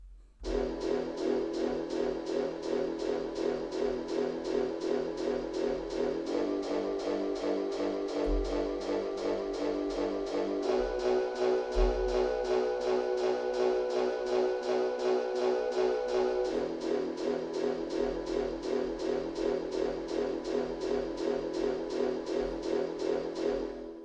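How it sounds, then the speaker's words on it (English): A dark, sustained Chinese orchestral hit sample with EQ and reverb plays in repeated stabs following a chord progression, with reverb tail and changing pitches, no talking. "It's just under hits, and it's called the Chinese hit"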